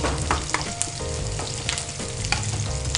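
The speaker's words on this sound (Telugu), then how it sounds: "దానికోసం మళ్ళీ ఆనియన్స్ని కూడా రెడీ డీప్ ఫ్రై చేస్తున్నాం" Onions deep frying in hot oil for a biryani masala, a steady loud sizzle and crackle with scattered popping spits and stirring sounds throughout, with no talking.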